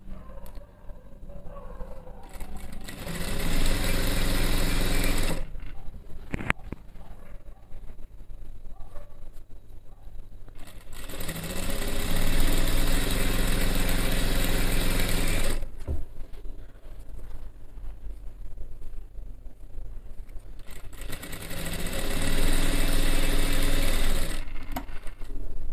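An electric sewing machine stitches a Jodhpuri bandhgala coat in long steady runs of rapid whirring, stopping and restarting several times, close and loud with no talk.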